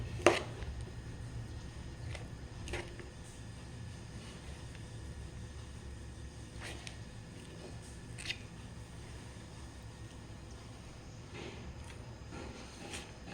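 An onion is finely chopped for paneer momo filling, giving faint, sparse knife taps on a board, irregularly spaced over a low steady background hum.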